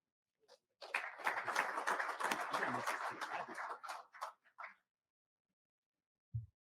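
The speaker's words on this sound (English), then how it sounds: "So please join me in a round of applause for Hank Taylor." Audience applause at an Army aviation conference event, a burst of clapping that swells for about three seconds, then tapers into a few scattered claps before silence.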